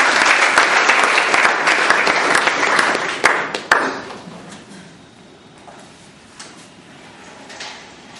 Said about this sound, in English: Please put your hands together for Toastmaster Sudipto. Round of applause.